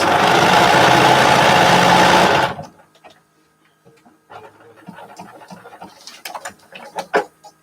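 A sewing machine stitches quilt pieces in a loud, steady close whir for about two seconds, then stops, leaving faint handling rustles and small clicks.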